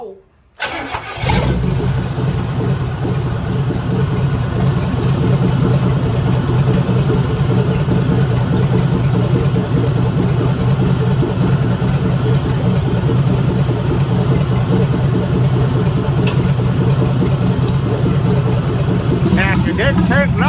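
A car engine cranks and starts abruptly, then idles and runs steadily and loudly close by during a radiator cleaner test, a continuous rumbling drone with no break.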